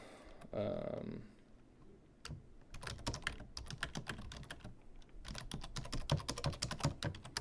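Fingers typing on a computer keyboard while a blog post is being filled in: a soft rustle comes first, then quick, uneven runs of light key clicks, faint and close, with no talking.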